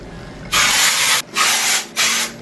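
Dry shampoo sprayed onto hair in three close, loud bursts, the first longest and the next two shorter, each a broad hissing rush with brief gaps between, no talking.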